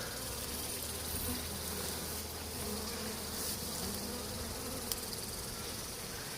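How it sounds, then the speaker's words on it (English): A large swarm of honeybees, settled in an almond tree, hums in a dense, continuous buzz, loud and close, with no voices over it. "the one that I didn't get to just swarmed"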